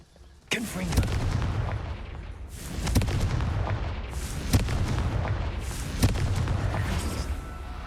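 The Confringo fire-blast spell from Hogwarts Legacy goes off as a sudden heavy boom, followed by several more loud, deep explosive bursts spaced a second or two apart over a rumbling battle din.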